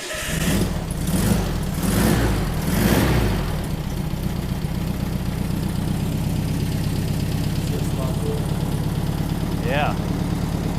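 An air-cooled 40HP VW engine settles into a steady, low idle after being restarted, its rumble continuous and close. Voices talk over the engine during the first few seconds.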